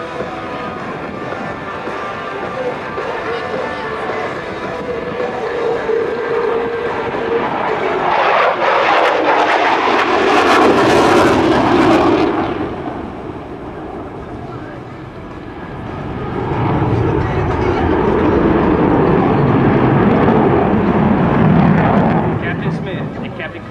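An F-15E Strike Eagle jet at an air show does a tactical pitch-up, a loud sustained roar that swells, peaks, dips, then surges again as it passes, with an announcer's voice faintly beneath.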